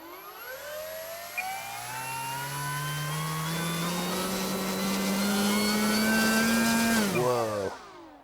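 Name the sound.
RC plane electric motor run-up, 4S power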